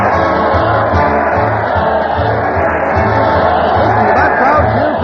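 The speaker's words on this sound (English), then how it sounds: "Listen to that crowd cheer Fred Allen as he leads his weekly parade to the old Town Hall." A crowd cheering at a 1936 old-time radio comedy show broadcast from a Town Hall setting, a continuous loud roar of voices heard over music, with no pauses.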